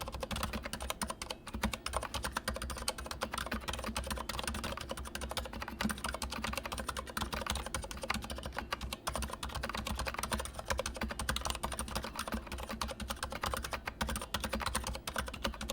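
Steady, fast typing on a One Of Zero Iodine mechanical keyboard, a dense stream of close, crisp key clacks with no pauses or voices.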